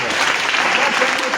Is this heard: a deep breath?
no